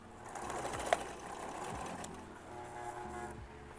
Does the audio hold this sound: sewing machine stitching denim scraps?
yes